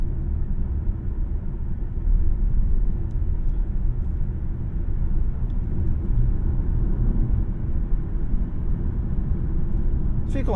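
A 2024 Nissan Ariya Platinum+ e-4ORCE electric SUV driving on the road, heard from inside as a steady low road and tyre rumble with constant cabin noise throughout.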